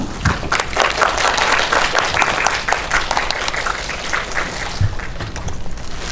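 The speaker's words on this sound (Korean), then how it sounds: "박수로 환영해주세요" A theater audience at an indie film anniversary event applauds to welcome an actress: loud, dense, continuous clapping from a full crowd, with a few low thumps underneath.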